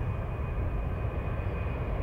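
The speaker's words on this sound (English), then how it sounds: "he can't because the airplane is too noisy" Airplane cabin noise, a constant low engine drone and broadband rush with a faint steady whine above it, loud and unchanging throughout, no speech.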